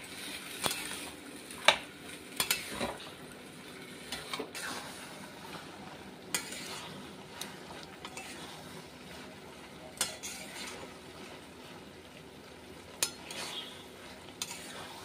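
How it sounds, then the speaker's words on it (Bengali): Boiled chickpeas and potatoes with spices are fried and stirred in a pan, giving a steady sizzle beneath scattered clinks and scrapes of a utensil against the pan, close and continuous, with no talking. "সিদ্ধ করা আছে ছোলাতে আর আলুতে, সেটা আমি দিয়ে দিচ্ছি। এটা ঝাল ঝাল করে ভাজলে খুব ভালো লাগবে।"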